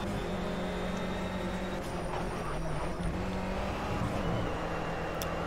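Race car engine in the Project CARS racing game, a steady loud drone of engine and road noise throughout, with tyre scrub as the car brakes hard and turns in, no voices over it.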